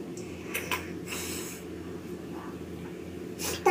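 Someone with a runny nose sniffles in a few short wet bursts, two close together early and one more at the end, fairly near against a quiet room.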